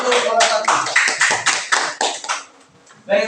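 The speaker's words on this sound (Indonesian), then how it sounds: "Tepuk tangan untuk kelompok 1." A classroom of students claps for a presenting group, a short burst of close, loud hand claps with distinct individual slaps that dies away after about two seconds, followed by a voice starting to speak.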